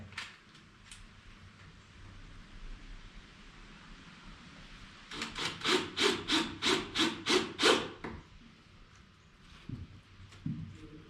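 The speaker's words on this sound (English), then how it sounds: "Again, we're just counter boring these." A quick burst of about ten rhythmic grinding pulses as an auger bit counterbores a screw hole into wood, fairly close, with quiet pauses before and after.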